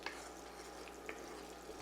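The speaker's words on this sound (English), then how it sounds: "You can see it's already starting to kind of sizzle up." Butter and honey starting to melt and sizzle in a skillet for honey butter corn: a faint, steady frying hiss with a few soft pops, with no talking.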